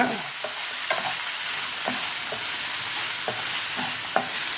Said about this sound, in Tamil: இப்போ பார்த்தீங்கன்னா ஒரு 5 மினிட்ஸ் நல்லா வந்து ஃப்ரை ஆகிருக்கு